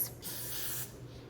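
A short, soft hiss of hair spray from an aerosol can, lasting under a second against a quiet background.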